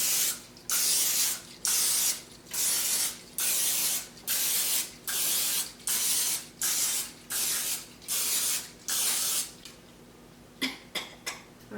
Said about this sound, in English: all I'm gonna do is spray my pan with a little bit of Pam